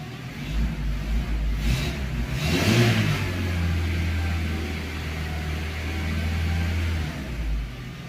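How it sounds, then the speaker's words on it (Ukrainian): Skoda Octavia A4 1.6 engine idling on gas after switching over, then revved up sharply once before settling back to a steady, close, loud hum with no talk. "машина перейшла на газ. Газувати не потрібно, але якщо хочете, можемо і погазувати"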